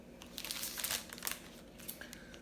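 A plastic sleeve used to protect handmade birthday cards crinkles and rustles in quick bursts as the cards are handled, close and soft, with no talking.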